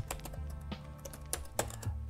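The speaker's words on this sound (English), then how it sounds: "So we'll go ahead and type ProbeQuest," A command typed on a computer keyboard, short rapid key clicks in quick irregular bursts, close and fairly quiet, with no talking.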